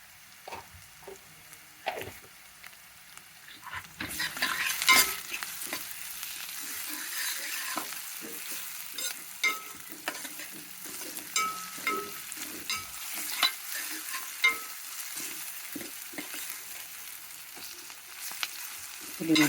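Ginger garlic paste fries in a pan, a loud steady sizzle that swells after a few seconds and carries on under frequent clinks and scrapes of stirring, with no voices.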